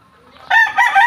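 A gamefowl rooster at a game farm crows loudly and close, a single rising then sustained call lasting about a second.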